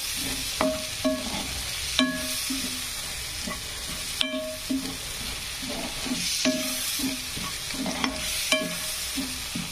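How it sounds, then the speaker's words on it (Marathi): Vegetable curry with Kashmiri chilli and garam masala sautéing in a pan, a steady sizzle broken by repeated ringing scrapes and clinks of a spoon on the pan at irregular intervals, close and clear, with no talking. "छान परतून घ्यायचं टाकून घेतल्यानंतर."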